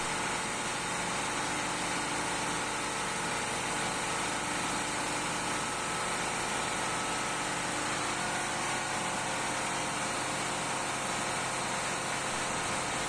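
A compressor machine running in an ammonia plant cold storage, giving a constant, dense mechanical drone with a steady hum and hiss that never varies across the whole stretch, loud and close with no voices.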